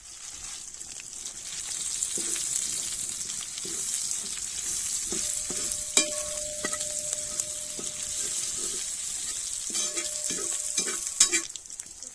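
Seeded dried red chillies sizzle and fry steadily in a pan for a rabbit pallipalayam, with a spoon scraping and stirring at intervals and a few sharp clinks against the metal.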